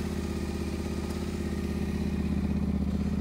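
A Yamaha Tenere 700 adventure motorcycle engine running steadily at idle right after starting, a close, continuous low throbbing rumble that swells slightly toward the end, with no talking.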